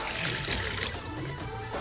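Warm water pours and trickles steadily in a home kitchen while naan dough is being prepared. The splashing is moderately loud and continuous, with no voices.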